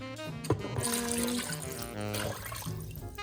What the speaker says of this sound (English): you put 4 cups of water, which should be about above the meat